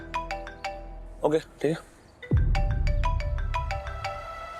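A mobile phone ringtone chimes as a repeating melodic pattern in a TV drama scene, starting alone, broken briefly by short speech, then continuing steadily over a low background rumble.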